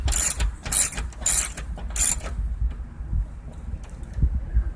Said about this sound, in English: I'm going to tighten those down securely with a 5/8 socket.